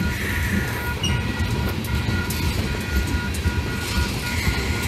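Wheeling & Lake Erie freight Train 214 works Wayco Siding at Hopedale on a cool fall evening, dropping off tanker cars. It gives a steady heavy rumble with rolling wheel clatter and brief metallic squeals, close and continuous.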